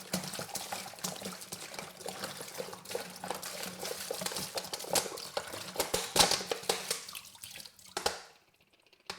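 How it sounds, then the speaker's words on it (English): Water is poured into a plastic brewing bucket for banana wine, a continuous splashing gush with clattering, uneven bursts that runs for about eight seconds before cutting off into near silence. "we're putting our water in first"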